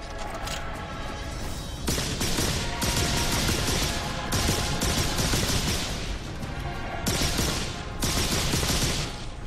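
Heavy automatic gunfire from large weapons in the video game The Darkness blasts in long sustained bursts with brief pauses between, loud and close.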